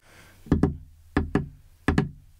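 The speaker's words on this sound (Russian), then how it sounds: "Стучит явно арестант." Knuckles rap on a door in three quick pairs of loud, close knocks, each pair separated by a short pause, in an otherwise quiet room.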